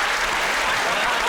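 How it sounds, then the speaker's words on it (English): Studio audience bursts into applause on a comedy panel show, a dense, steady wash of clapping filling the whole moment at close range. "One word gets a round of applause."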